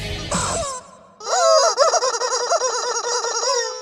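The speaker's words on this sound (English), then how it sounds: "Squeeze a rubber chicken." A rubber chicken used as a stream redeem sound gives a short squawk, then after a brief pause a long, loud, wavering honking squeal.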